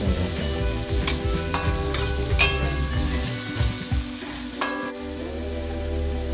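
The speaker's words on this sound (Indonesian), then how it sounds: "Setelah dimasukkan, aduk" Water spinach and shrimp sizzle steadily in a hot pan while a utensil stirs and scrapes through them in repeated strokes, close up.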